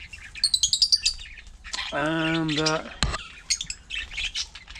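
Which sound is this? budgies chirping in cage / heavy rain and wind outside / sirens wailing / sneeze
budgies chirping in cage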